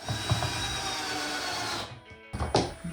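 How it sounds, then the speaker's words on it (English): A power drill whirs steadily while driving a screw into a front license plate bracket on a Jeep Wrangler JL bumper, then stops briefly before a short final burst and knock. "Drill the first screw in"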